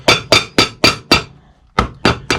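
A boat sole being hammered onto an Allen Edmonds Maritime boat shoe during a resole: eight sharp, close blows in a steady rhythm, with a brief pause after the fifth strike.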